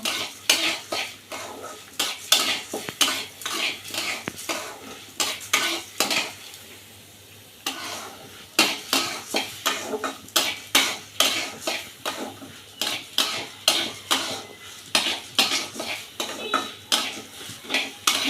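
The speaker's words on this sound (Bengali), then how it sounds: "আস্তে আস্তে জালে এটা নেড়ে চেড়ে ভেজে নেব" Wheat grains dry-roasting in a hot wok over a gas flame, stirred with a utensil that scrapes the metal in steady rhythmic strokes, close and clear, with one brief pause partway through.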